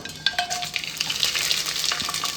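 Spices crackle and sizzle in hot oil for a veg pulao, a close, steady frying hiss with light stirring and no talk over it.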